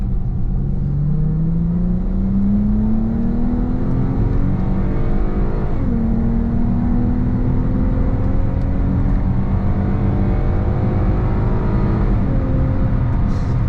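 An American muscle car accelerates hard, its engine note climbing in long steady sweeps, dropping at a gear change and then rising again. The loud, close rumble runs continuously, with no talk over it.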